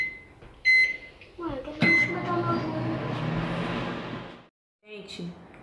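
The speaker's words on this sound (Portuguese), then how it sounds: "E agora eu vou colocar no micro-ondas pra eu comer. Vou colocar 5 minutinhos." A microwave oven reheating ground beef with sweet potato: a few beeps as the buttons are pressed, then a steady running hum that cuts off, followed by a short rattle, heard close with faint household sound.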